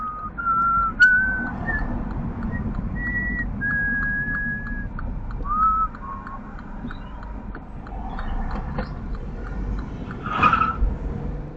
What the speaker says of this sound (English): I'm sure you heard the wheel spin from the van